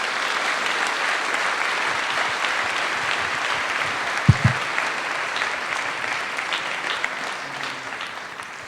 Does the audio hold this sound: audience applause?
yes